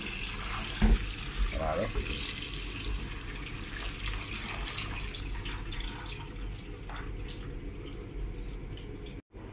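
Water runs steadily from a tap while beef is washed for a bulalo-style soup, a continuous splashing flow with a few louder splashes and a brief spoken word.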